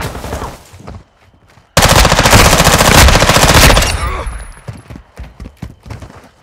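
Rapid automatic gunfire from Modern Warfare 2 erupts loud and dense for about two seconds mid-clip, preceded and followed by quieter game sounds and scattered impacts.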